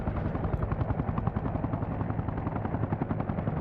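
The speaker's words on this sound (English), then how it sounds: "Why are there so many fucking helicopters?" A helicopter's rapid rotor thumping in the video game ArmA Reforger pulses steadily throughout, loud and close, with no one talking.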